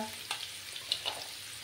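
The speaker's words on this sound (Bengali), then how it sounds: "এবার আমি এই মূলোগুলো দিয়ে দিচ্ছি।" Radishes tossed into a hot pan of oil for a Bengali radish jhal with vadi, giving a soft, steady sizzle with a few faint stirring scrapes, fairly quiet throughout.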